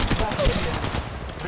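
Rapid gunfire in Apex Legends Mobile, a quick burst of sharp repeated shots over about a second and a half, loud and close amid game noise.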